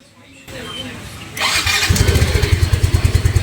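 After faint background noise, a Yamaha Mio i 125 motor scooter engine with a custom exhaust cranks and catches, then settles into a loud, rapid, throbbing idle close by.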